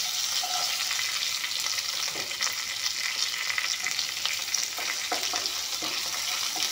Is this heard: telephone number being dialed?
no